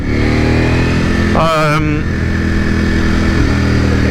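A 2021 Ducati Panigale V4S engine on standard exhaust runs loud and close, holding a steady rumble with a brief rev midway before settling back to a throaty idle.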